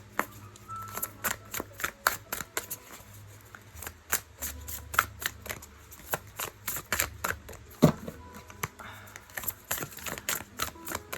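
Oracle cards being shuffled by hand, giving a steady run of crisp, close riffling slaps and flicks at an uneven rhythm for several seconds, with no voice over them.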